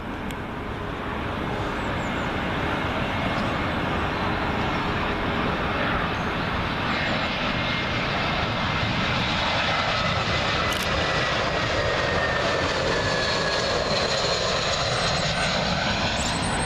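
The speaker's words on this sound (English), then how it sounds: "British Airways A320 coming in from Berlin" A British Airways Airbus A320 arriving from Berlin lands on runway 27L at Heathrow, its sustained heavy engine roar rushing close overhead with a whining tone that shifts as it passes, lasting throughout.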